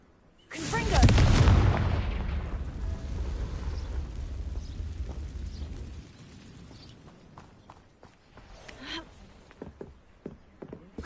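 A Confringo fire spell blast in the video game Hogwarts Legacy, one loud booming burst with a deep rumbling tail that fades over several seconds, followed by scattered quieter clicks and effects.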